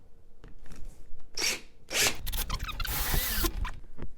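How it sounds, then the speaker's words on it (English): A power drill whirs in several short bursts, then one longer sustained run, drilling into wood close by, with scraping and handling noises between. "So if I drill all the way to there, then I know I've got the right depth."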